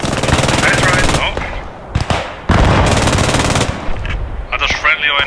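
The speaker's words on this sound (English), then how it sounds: "Are those friendly or enemy mortars coming here on the south side?" Heavy gunfire and explosive blasts in the World War II game Post Scriptum, loud bursts broken by short gaps, with mortar fire crashing in among them.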